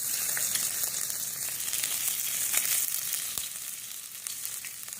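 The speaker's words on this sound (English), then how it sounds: "I'm going to go ahead and put some ginger, and it's going to splatter some more." Ginger and garlic sizzle and splatter in hot oil in a wok for veg chow mein, a loud, dense hiss with scattered sharp pops that eases slightly toward the end, with no talk.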